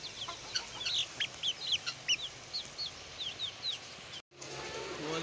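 An aggressive hen that attacks chicks clucks repeatedly in short, high, nasal bursts, moderately close over a steady farmyard background, breaking off briefly near the end.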